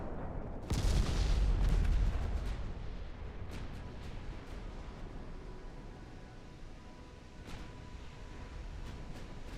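Naval guns boom in a warship battle game, a heavy blast near the start followed by a long rolling rumble with scattered distant reports and crackles.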